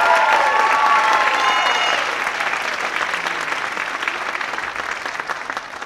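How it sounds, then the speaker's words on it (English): An audience at a staff dance show applauds loudly at first, with a few cheers and whistles, then the clapping thins out and fades to a steadier, softer patter. "Another round of applause for them, please."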